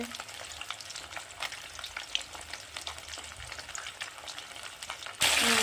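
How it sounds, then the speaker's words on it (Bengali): Rohu fish fries in oil in a kadai with a close, crackling sizzle and stirring scrapes, swelling into a much louder burst of hissing near the end. "তো দেখো, মাছ ভাজা হচ্ছে কড়াইতে।"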